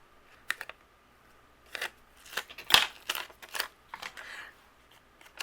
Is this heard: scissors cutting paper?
yes